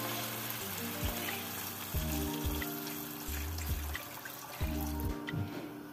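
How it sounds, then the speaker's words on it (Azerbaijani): Meat broth poured into a frying pot of hot oil for Georgian kharcho soup, giving a steady sizzling and watery rush with several brief splashy bursts, close and fairly loud, with no talking. "Ətin suyunu əlavə edirəm"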